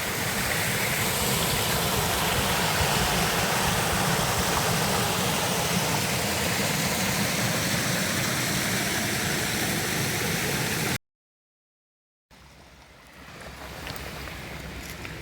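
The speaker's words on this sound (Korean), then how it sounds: "이거는 사계절 흐르는 물이네." A clear mountain valley stream flows year-round, a steady, close rushing of water that runs unbroken, then cuts out briefly before resuming more faintly with a low engine-like hum.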